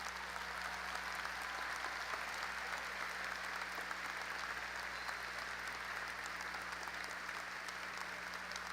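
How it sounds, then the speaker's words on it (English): Graduation audience applauding the faculty, sustained crowd clapping heard at a distance in a large hall, even and continuous with a steady low hum beneath it. "let us at least give you a round of applause as well"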